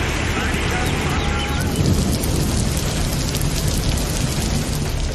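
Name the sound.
heavy rain falling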